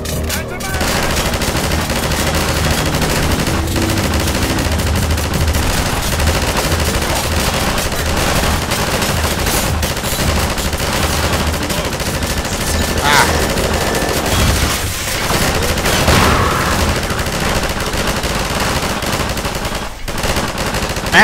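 Dense, loud automatic gunfire in Half-Life 2 as a player shoots at flying manhacks, rapid continuous bursts of shots filling the whole stretch with a brief gap near the end, with a voice talking faintly underneath.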